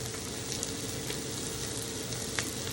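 Ground beef sizzles in a hot pan, a dense, steady crackle and hiss throughout with small pops, close and moderately loud, no voices.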